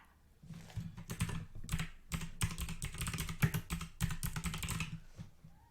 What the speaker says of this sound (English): so I'm typing printable